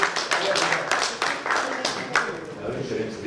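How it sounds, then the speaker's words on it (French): Applause breaks out in a French municipal council meeting, a short burst of clapping from the room mixed with overlapping talk. "Bravo, on peut l'applaudir."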